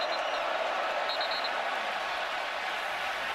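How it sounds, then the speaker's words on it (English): Broad steady roar of a stadium crowd at a Florida Gators vs. Texas Longhorns college football game, continuous and even throughout with no distinct cheers standing out. "dealing with this crowd noise"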